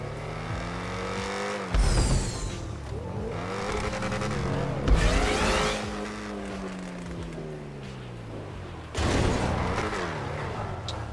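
Cars in GTA V Online racing through a parkour course, engines revving loudly with repeated bursts of tire squeal and skidding as they slide, sustained and close throughout.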